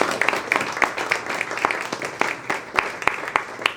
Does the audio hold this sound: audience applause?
yes